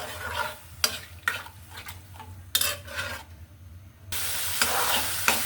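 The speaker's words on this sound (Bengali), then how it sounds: "আমার কষানো হয়ে গেছে মশলাটা" Spiced masala for egg curry is stirred in a pan, with repeated sharp scrapes and clinks of a utensil against the pot over a low sizzle that swells into louder frying near the end.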